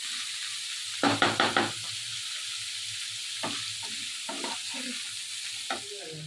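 Dried fish (shutki) cooking in a pan, a low sizzle broken by a quick burst of four sharp knocks of a spoon against the pan, then scattered scraping stirs.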